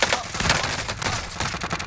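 Rapid video game gunfire during a Resurgence battle royale squad match: dense, loud overlapping bursts of automatic shots crackle continuously for about two seconds, with no voices.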